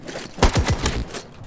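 Quick burst of several sharp gunshots in a team-based shooter video game, clustered within half a second, close and punchy, then fading into quiet.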